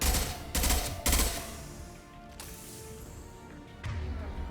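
Sniper rifle shots in Mass Effect 2 (Legendary Edition): two quick sharp reports close together, then two more spaced-out shots, loud and near with little talk.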